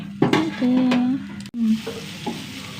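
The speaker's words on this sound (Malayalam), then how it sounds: "കടുക് പൊട്ടിച്ച് ഉള്ളി ഇട്ട് മഞ്ഞപ്പൊടി മുളക് പൊടി ഇട്ടു" Mustard seeds and onion fry in hot oil with a close, lively sizzle, broken by brief scraping and clinks of a stirring utensil against the pan over a few seconds.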